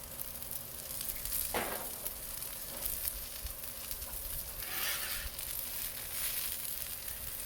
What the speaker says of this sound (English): I just want to keep that griddle nice and hot and let them cook on here, not burn on here.